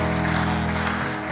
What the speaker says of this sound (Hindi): क्यों नहीं ताली बजा के उनको बधाई दे।